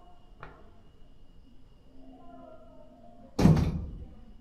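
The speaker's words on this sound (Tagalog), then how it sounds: "Ang pangit naman pakinggan itong pintuan na ito." An old door swings open in an empty house, giving a short creaky, grating scrape followed by a loud thudding knock, close by with a quiet room around it and no talking over it.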